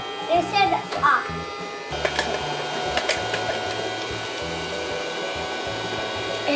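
A Casdon children's toy Dyson Ball vacuum cleaner runs with a steady electric buzzing hum, close and continuous, while a child and an adult talk over it.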